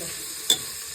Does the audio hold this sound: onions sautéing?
yes